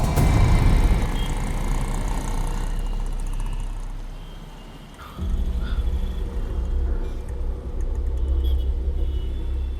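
A car engine rumbles loudly as the vehicle is driven off, dipping briefly midway before the heavy motor drone swells again and carries on steadily to the end.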